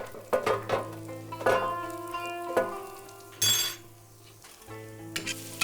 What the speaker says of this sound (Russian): Лук с морковкой жарится, и из казана запахло пловом.